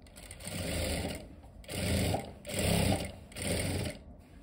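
A sewing machine stitches a formal pant in four sustained runs of whirring, rattling motor and needle noise, each lasting about a second with short pauses between, close and fairly loud.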